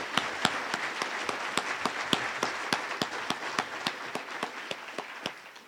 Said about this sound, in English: If y'all would help me give the speakers all another round of applause.